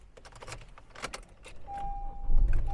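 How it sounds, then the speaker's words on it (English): A 2016 Honda CR-V LX AWD being started with its key: keys jangle close by, then a brief electronic chime and a short starter crank as the engine catches and settles into a low idle. "As soon as you tap the starter there, or engage the starter, it just starts right up."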